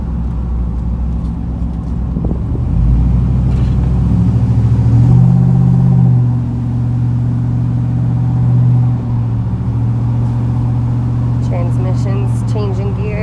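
Low rumbling engine of a 1996 Chevrolet Silverado GMT400 pickup driving on the road, rising then easing as it shifts gears smoothly, steady cabin drone with someone talking.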